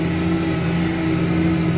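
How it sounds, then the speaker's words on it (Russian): A CLAAS Axion 940 tractor running on autopilot while driving forward with a cultivator, its engine a steady, close, even drone with a constant tonal hum and no change in pitch. "Трактор едет вперед, обороты двигателя."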